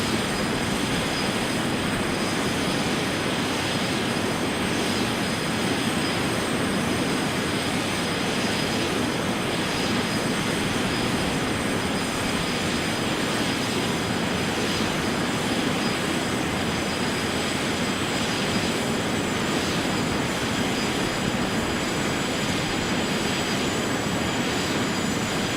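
Airliner engines at idle thrust during touchdown in a flight simulator game, a steady, loud, broadband roar with high whining tones that continues unbroken throughout, with no talk.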